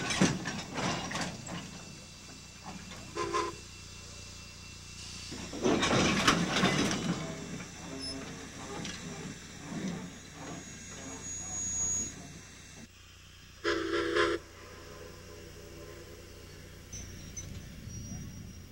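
A vintage steam train with historic rolling stock clanks and ratchets along, with bursts of steam hiss and mechanical rattling at a moderate distance, over a low rumble.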